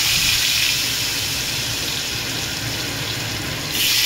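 Diced potatoes frying in hot oil, a loud, dense, steady sizzle that holds evenly throughout with no voices.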